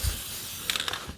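A Husky 701 motorcycle chain spun by hand during cleaning, a short run of close ratcheting clicks in a quiet room, with no talking.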